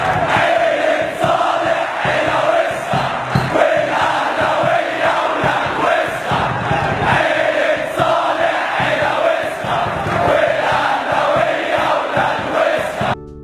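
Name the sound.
football fans chanting insults at Saleh Selim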